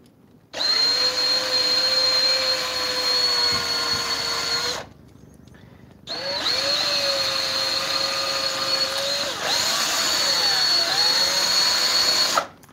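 A power drill spins an apple against a peeling blade, a loud steady whine running in two long stretches with a short gap, the pitch sagging slightly as the peel drags.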